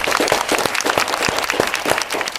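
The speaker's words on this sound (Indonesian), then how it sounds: "Tepuk tangan dulu." A studio audience applauds at a televised talk show on election violations in Semarang Regency, a steady wash of many hands clapping fairly loudly for the whole stretch with no talking.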